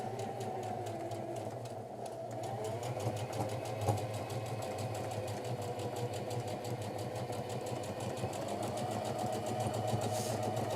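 A sewing machine stitches a shirt seam, running in a steady, continuous mechanical whir for the whole stretch, including a reverse stitch to lock the seam, with no voices.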